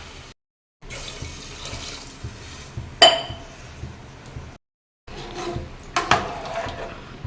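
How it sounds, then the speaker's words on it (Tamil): About a liter of water pours and splashes into a metal cooking pot, broken by short pauses and a couple of sharp clinks of metal against metal. "நல்லா ஒரு 1 லிட்டர் தண்ணி ஊற்றலாம்"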